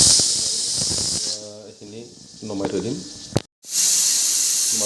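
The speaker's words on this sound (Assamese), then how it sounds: "মাটি দালি চিটি মাৰি আছে" A pressure cooker cooking mati dal lets out a loud, close steam whistle-hiss, which cuts off mid-clip and then bursts back strongly. A person talks in the quieter gap between the blasts.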